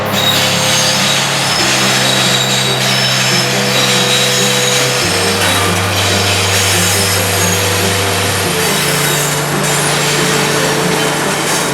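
A long freight manifest train rolls past a rail junction, Howell Y, a loud and steady rumble with droning engine tones that shift in pitch as cars pass close by, with no voices.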